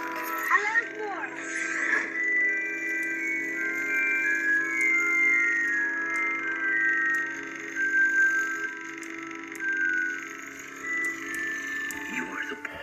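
Golden Snitch effect from a Harry Potter neopixel lightsaber: a steady electronic hum overlaid with fluttering, chirping tones that run continuously, with a voice talking over it.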